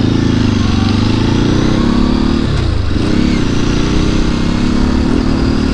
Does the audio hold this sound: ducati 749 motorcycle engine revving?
yes